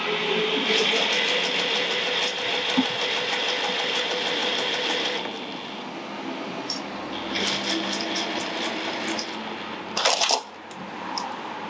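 A sewing machine stitches a clutch bag seam at a 1 cm allowance, running in steady bursts of rapid, even stitching with short pauses between runs, close and alone without talk.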